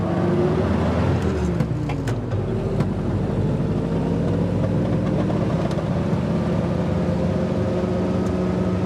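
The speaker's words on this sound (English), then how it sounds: "it likes it better if you drive it like an old truck with square gears, double clutch it" A 1952 Willys M38-CDN military jeep with manual shift, steering and brakes, driving along with a loud continuous engine drone and whine that shifts in pitch early on, then holds a steady cruising note.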